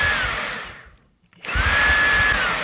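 A Dreame V11 cordless vacuum cleaner runs with a loud, steady motor roar and high whine. It cuts out to near silence for a moment, then surges back to full power.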